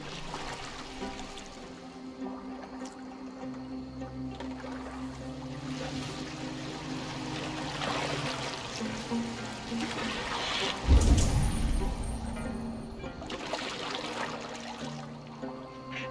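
A boat moves through water in Assassin's Creed Valhalla. Water sloshes and streams steadily against the hull, and a louder rushing swell rises near the middle before easing back, with no voices.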